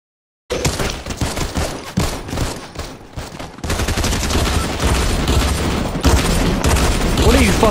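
Rapid gunfire and bursts of shooting in the video game Fortnite, loud and dense, with repeated shots building into sustained volleys.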